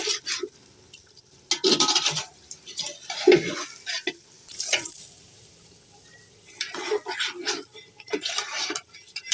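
Rice tipped into a homestyle biryani pot over its cooked masala and stirred in, heard as bursts of rustling, scraping and soft sizzling separated by quieter gaps, close and alone.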